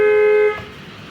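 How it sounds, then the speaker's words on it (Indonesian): A single steady car horn blast from a Toyota Vios during a final vehicle check, loud and close, held for about half a second before cutting off into quiet background noise. "Lanjut untuk klakson"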